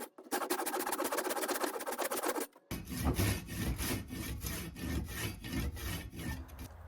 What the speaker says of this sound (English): I have to do it all with a handsaw